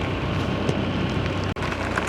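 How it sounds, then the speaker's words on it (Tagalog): Rain falls at San Roque Dam as a steady, loud, broadband patter and hiss throughout, broken only by a brief dropout, with no talking. "andyan na naman ang ulan"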